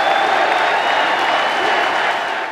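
A convention crowd at the 2012 Republican National Convention applauds Mitt Romney. Dense, steady clapping and crowd noise fill the hall for a couple of seconds before easing slightly at the end.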